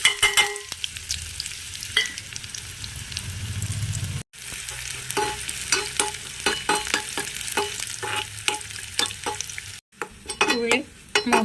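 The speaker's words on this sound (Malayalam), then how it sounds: "ചട്ടി വെച്ച് നെയ്യ് ഒഴിച്ചിട്ടുണ്ട്. ഇനി നമുക്ക് ഇതിലേക്ക് നേരത്തെ എടുത്ത് വെച്ച ഉള്ളി ഇട്ട് കൊടുക്കാം." Chopped onions fry in ghee in a pan for a tempering for nombu kanji, hissing steadily with frequent sharp crackles and pops and scraping stirs, close and fairly loud, with two brief gaps in the sizzle.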